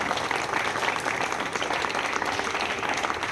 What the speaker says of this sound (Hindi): तालियां बजाए जाने के लिए